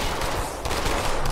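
Rapid bursts of shotgun and automatic weapon fire in the Halo 2: Anniversary shooter game, a dense, continuous barrage of loud overlapping shots with no pauses.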